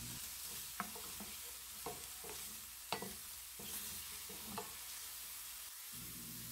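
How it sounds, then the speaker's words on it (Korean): Broccoli and other vegetables stir-fried in a dry pan with no oil: a steady soft sizzle with repeated scraping and tossing strokes of a utensil against the pan, close and moderately quiet, no talking. "기름 추가 없이 그냥 볶아주었습니다"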